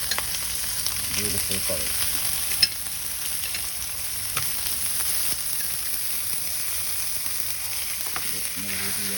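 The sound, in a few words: vegetables frying in a pan with steak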